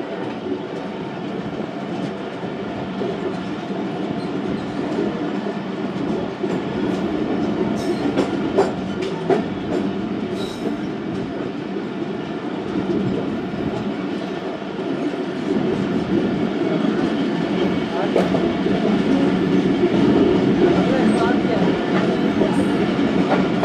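Karachi Express passenger train rolling past Tando Adam railway station, a steady loud rumble of wheels and carriages with faint clickety-clack throughout, heard from on board.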